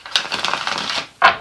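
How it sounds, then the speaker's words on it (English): Playing cards shuffled by hand during a tarot reading: a rapid run of crisp riffling clicks, then a short pause and a final sharp burst, close and loud with no speech. "one more shuffle"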